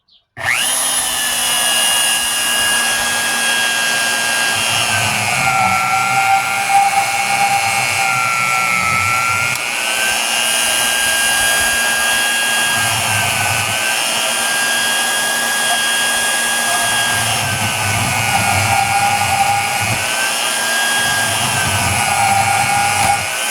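A bandsaw cuts through brass scrap in a workshop, giving a loud, steady whine with shifting high tones that runs without a break for the whole stretch, dipping slightly as the blade bites.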